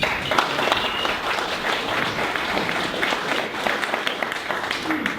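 An audience at a business talk on marketing and SEO applauds to welcome a speaker, a steady broad wash of many hands clapping at moderate volume for several seconds, with a few voices faintly underneath.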